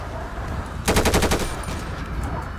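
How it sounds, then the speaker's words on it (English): Rapid burst of gunfire in GTA 5, about eight quick shots in a tight machine-gun-like volley lasting around half a second, loud against a steady game background rumble. "Shots fired, shots fired."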